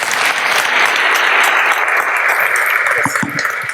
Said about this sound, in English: Again, applause, please